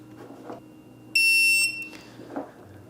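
A shot timer gives one loud, steady electronic beep of about half a second, close and clear over a quiet room hum.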